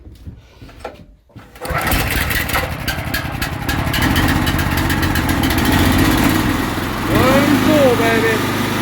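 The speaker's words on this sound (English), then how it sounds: "So let's get this machine fired up." A gas-powered pressure washer, used for cleaning a deck or fence, is started after some handling noise and then runs loud and steady close by, its engine droning continuously with a brief voice over it near the end.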